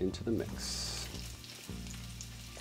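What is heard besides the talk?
garlic frying in oil in a pan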